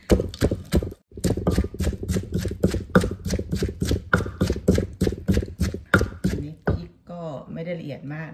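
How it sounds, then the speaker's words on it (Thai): Peanut dipping sauce pounded in a mortar and pestle for a grilled sea bass leaf-wrap dish, giving a fast, steady run of loud, close thuds for about seven seconds before stopping, followed by someone speaking. "ตอนนี้พอล่าก็จะมาตำน้ำจิ้มนะคะระหว่างรอปลาสุกนะคะ"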